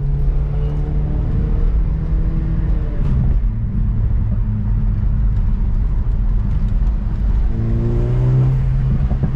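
A 2015 BMW 428xi Gran Coupe M Sport, tuned to 297 hp, pulls hard under acceleration from inside the cabin. Its engine drones loud and steady, with a rising pitch sweep near the start and another near the end.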